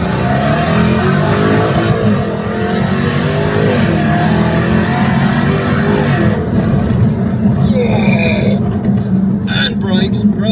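A Jaguar F-Type sports car in rear-wheel-drive dynamic mode launches hard, its engine roaring loud and continuous from start to finish while a driver talks excitedly over it.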